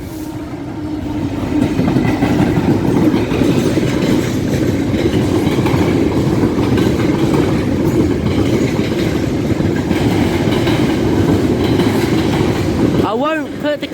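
A train departs York station with a loud, steady rumble of passing wagons and rolling wheels, and a brief squeal or horn near the end.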